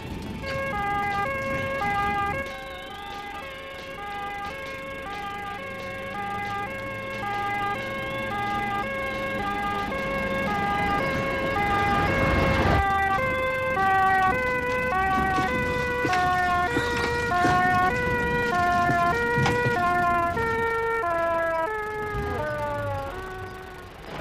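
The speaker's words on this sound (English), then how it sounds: "the siren works." An ambulance siren wails continuously, its pitch sweeping up and down in a steady cycle, loud and close throughout with no talking.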